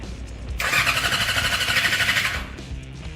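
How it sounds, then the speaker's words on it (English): A modified bumper car built for a speed record cranks and fires up, its engine turning over with a loud, dense rattling roar that holds steady for about two seconds before dropping back to a rough idle. "What a relief, it turns over at least."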